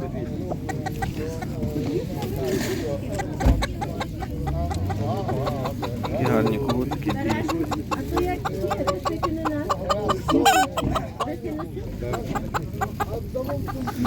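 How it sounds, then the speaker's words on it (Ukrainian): Chickens clucking at a rural animal market in Ukraine, with busy cackling from the fowl blended under steady nearby conversation. "які гарні всякі розмальовані курочки"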